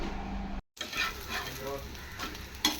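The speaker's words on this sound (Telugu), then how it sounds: "దోశలు వేసేస్తాను" Dosa batter sizzles and crackles on a hot pan, a steady close frying hiss with a brief cutout partway through and no voices.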